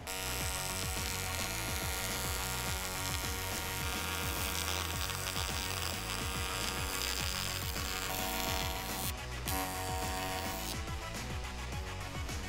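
Welding the last couple of inches of a turbo tank for a Fairlane produces a continuous buzzing electric hum with a crackly rhythmic pulse, steady and close throughout.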